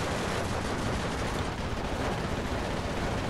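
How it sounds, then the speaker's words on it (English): Sustained artillery bombardment in the World War II strategy game Steel Division 2, a dense, continuous rumble of overlapping blasts and gunfire at steady loudness throughout. "Another nice artillery bombardment here."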